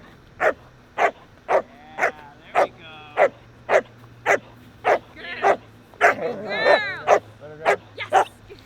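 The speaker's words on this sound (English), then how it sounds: "Getting her barking and getting her very reactive." Repeated sharp barks from an 18-week-old Czech working line German Shepherd puppy during protection training with a decoy, roughly two per second and steady, with a few higher yelps and whines mixed in near the end.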